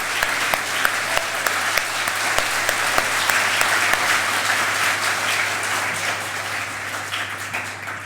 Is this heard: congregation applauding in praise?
yes